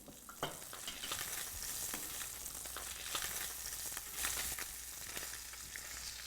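Tilapia fillets frying in butter in a pan, a steady close sizzle and crackle with occasional stirring scrapes and small pops throughout.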